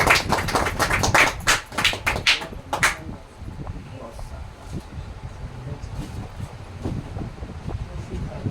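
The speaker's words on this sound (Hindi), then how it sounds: "आप लोग एक बार ताली से स्वागत करिए" Meeting attendees give a short burst of clapping to welcome a speaker, with sharp claps for about three seconds before the room settles into quiet murmur and background noise.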